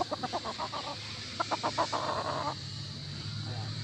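A gamefowl rooster, a butcher and raptor cross, gives a run of quick, soft clucks in two short bursts, fairly close, over a quiet farmyard background.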